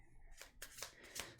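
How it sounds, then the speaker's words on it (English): Tarot cards are shuffled by hand in quick, faint riffling bursts, about four soft flurries close to the mic in a quiet room. "we got a good shuffle."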